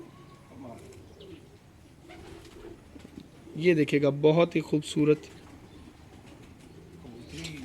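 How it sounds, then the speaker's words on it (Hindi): Pigeons coo in a burst of throaty, rolling calls near the middle, with someone speaking softly in Hindi or Urdu before and after. "हम आपको दिखाते हैं उनके कबूतर"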